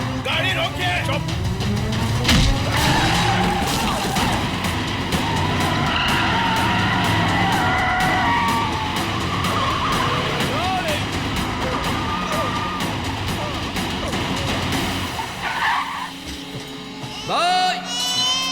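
A car skidding to a stop in a dubbed action film scene, engine roar and tire screech building over music, then a sharp halt with someone shouting.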